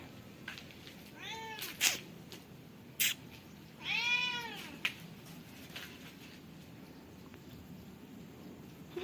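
Two grown farm cats give two distinct meows, one short and one longer and drawn out, fairly faint against a quiet background with a few light clicks.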